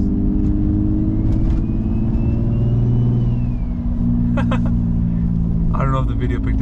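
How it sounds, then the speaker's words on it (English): Engine of a turbocharged G35 coupe cruising with the windows up, a loud steady rumble with some rising revs and brief turbo whistle or spool bursts near the end. "The windows are up. You can hear the turbo,"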